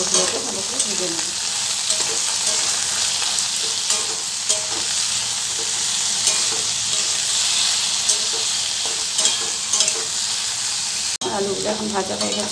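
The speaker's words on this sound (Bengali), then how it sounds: "আমি আলুগুলোকে ভালো করে ভেজে নেব।" Potatoes sizzle in hot oil in a kitchen pan, a dense continuous frying hiss with stirring movements, close and loud, briefly interrupted near the end.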